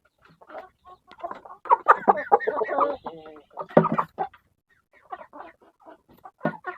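Breeder gamefowl hens and roosters of IG, Dumpo and Tanaka bloodlines cluck repeatedly in a backyard, close and moderately loud, with short bursts of chattering calls and brief pauses between them.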